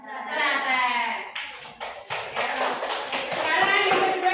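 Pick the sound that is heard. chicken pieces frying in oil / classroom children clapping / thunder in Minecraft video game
classroom children clapping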